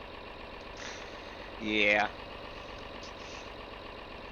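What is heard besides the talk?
loud tractor engine with throttle down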